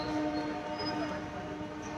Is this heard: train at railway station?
yes